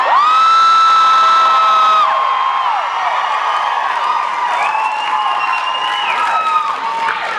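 A lively convention crowd at a Supernatural panel in Denver cheers for Jared and Jensen, with loud sustained high-pitched screams and whoops over continuous roaring applause that eases slightly but stays dense throughout.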